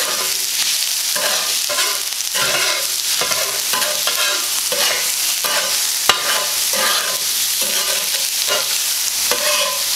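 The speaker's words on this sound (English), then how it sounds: "you want to make sure that you're taking these two spatulas and kind of breaking everything up" Cheesesteak meat frying on a flat griddle, steady loud sizzle throughout with repeated scraping and clacking as two spatulas chop and break it up, no talking.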